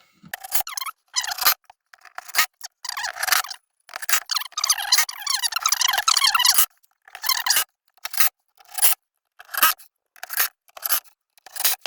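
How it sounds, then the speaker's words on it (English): Screws are driven into a wooden piece for a street skate spot, a series of loud, close bursts of whirring drill and grinding screw, each lasting about a second with short silent gaps between them. "I'm just going to go around and stick some screws in"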